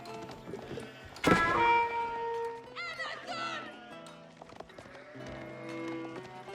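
Sheep bleat in an Age of Empires match among other game effects, including clip-clopping horse hooves and a whinny, while a commentator talks over the action.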